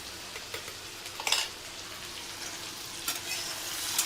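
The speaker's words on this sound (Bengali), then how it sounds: "একটু নাড়ো তো ছোলাটা।" Chickpeas frying in a pan, continuous close sizzle broken by several scraping stirs of a spatula, a sharper clatter about a third of the way in; no talking.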